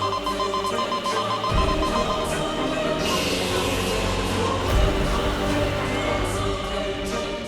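A security alarm rings continuously at close range, a steady shrill electronic tone that carries on without pause over a low rumble.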